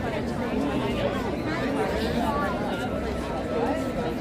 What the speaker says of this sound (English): The buzz of the crowd is getting a little bit louder